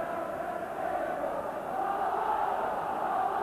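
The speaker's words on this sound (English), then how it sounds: "the crowd has suddenly burst into song" Rangers supporters singing together in a football stadium crowd during a match against Motherwell in 1990: a sustained, distant, swelling chant filling the ground, with a commentator's voice over it at times.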